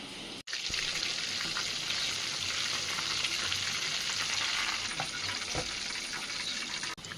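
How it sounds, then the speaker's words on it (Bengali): Battered potato wedges fry in hot oil, a continuous dense crackling sizzle at even volume, broken by a brief dropout near the start and another near the end. "ওয়েজেসগুলো তেলে দিয়ে দিয়েছি।"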